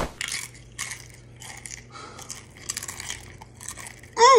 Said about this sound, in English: With every crunch, I'm getting healthier and healthier.